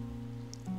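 Rain in the video game Imposter Factory near an overflowing fountain, a faint even patter under a low steady hum, with a small chime-like tone near the end and no talking.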